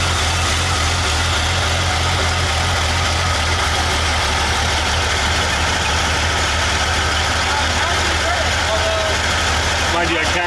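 A carbureted car engine idles steadily before it has warmed up, a low continuous rumble that holds at an even level throughout, with a brief faint higher sound near the end.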